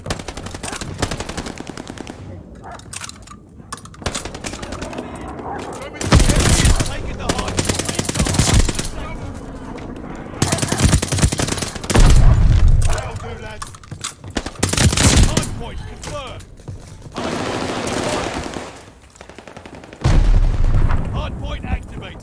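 Call of Duty Vanguard multiplayer combat with bursts of machine-gun fire and heavy booming explosions, loud and dense, with players talking intermittently over the battle.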